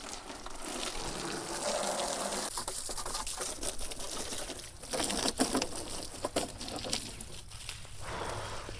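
Water pump motor running as water gushes and splashes out, a steady rushing wash with scattered patter and a few sharper knocks, moderately distant and continuous throughout, without speech.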